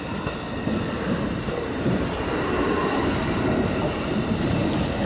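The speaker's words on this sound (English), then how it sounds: "Three coach classes on the rear for the last three coaches of the train." Passenger train coaches rumble steadily past at close range, a continuous heavy roll with faint rhythmic wheel clatter and no voices.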